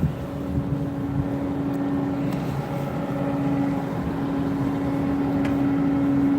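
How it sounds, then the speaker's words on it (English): A truck passing on a rural road near a barn and farm property, a steady broad engine rumble with a droning hum that holds evenly throughout, moderately loud and close, with no talking. "No, it's the other truck that I heard."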